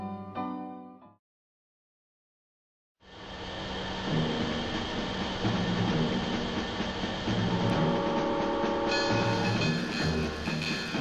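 A brief sound cuts to silence, then a train rumbles steadily along the rails, loud and close, with a rising metallic hum near the end.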